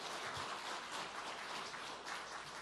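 A church congregation applauding, a steady wash of many hands clapping throughout, diffuse and moderately loud in a large room.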